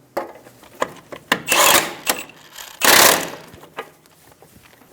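A castle nut snugged down on the outer tie rod of a 2010-2014 Subaru Outback: quick irregular metallic ratchet clicks and short whirring tool bursts, close and clear with no talking.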